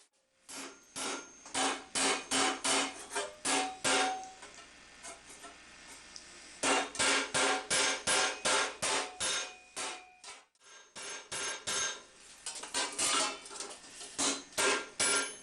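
A steel visor for a 14th-century Von Prankh barrel helm is hammered on an anvil: loud, close, rapid metallic blows in bursts of about ten strikes each, separated by short pauses.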